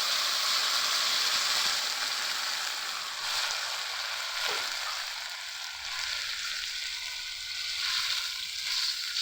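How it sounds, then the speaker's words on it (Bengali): Lentils lightly frying in a pan, giving a steady, moderate sizzle that rises and falls in intensity over several seconds, with a faint scrape partway through and no speech. "হালকা করে একটু ভেজে নিই"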